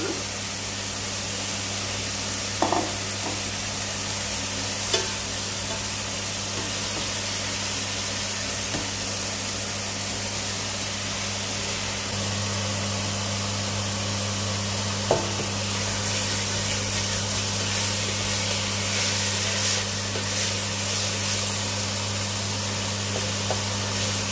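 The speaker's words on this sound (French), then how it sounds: "Ma viande et mes oignons ont bien rôti." Pork and spring onions frying in a pan, a steady low sizzle running throughout with a constant hum underneath and a few faint clicks.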